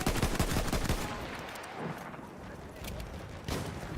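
Rapid gunfire in the shooter game Battlefield 1, a dense burst of automatic shots opening loud and close, then easing into a rumbling background with another sharp crack near the end, as someone talks over it.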